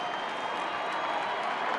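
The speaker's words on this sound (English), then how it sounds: "Real battling effort by Mark Burley as he gets a nice round of applause" Crowd applauding at a baseball game as pitcher Mark Buehrle leaves the mound, a steady dense wash of clapping and light cheering from a large stadium audience, continuous throughout.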